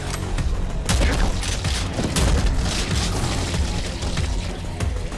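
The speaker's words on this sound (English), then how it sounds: "they all explode at the same time" Several grenade-launcher rounds in the shooter Prodeus detonate together in a dense, loud cluster of booms and crackling bursts that repeat through the stretch, with a sustained rumbling roar between them.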